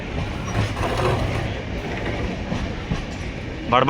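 A train departing a station rumbles steadily nearby with continuous rolling clatter and mechanical noise, and a brief sharper rattle near the end.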